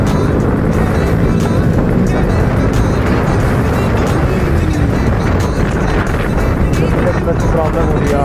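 A KTM Duke 390 motorcycle engine runs steadily while being ridden, with its revs sticking from a suspected clutch cable problem; the engine stays buried under heavy wind rush, with a voice speaking over it.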